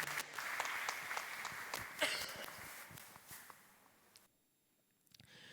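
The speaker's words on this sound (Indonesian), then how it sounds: "kita beri tepuk tangan sekali lagi untuk Mas Frank" Congregation applauding during a Sunday evening church service, a steady wash of clapping from a crowd in a hall that thins out and fades to near silence at the end.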